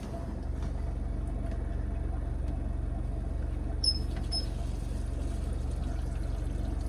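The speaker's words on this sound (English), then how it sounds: "But now let's let the water in." Water rushing into a newly installed household water filter as the supply is turned back on, a steady low rumbling flow that holds even throughout, with a couple of faint high chirps partway through.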